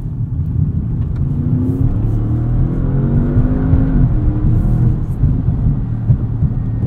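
A 2016 Audi S7 drives at speed, its engine drone rising and falling in pitch as it accelerates, with steady road and wind noise close and continuous throughout.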